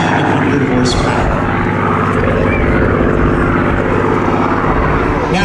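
A Rolls-Royce V12 warbird flies at a military air show, its piston engine giving a loud, continuous propeller roar throughout, with a voice faintly under the noise.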